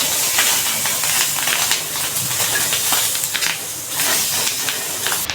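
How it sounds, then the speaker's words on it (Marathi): Green chillies dry-roast without oil on a hot tawa, giving a continuous close hiss and sizzle with faint crackles and scraping pulses as they are turned. "आपण आता मिरची भाजून घेणार आहोत."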